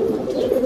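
A pair of Saharanpuri pigeons gives a soft, low, throaty coo that rolls on steadily for a moment, near and fairly clear, with no talk over it.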